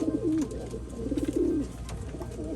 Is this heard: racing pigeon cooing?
yes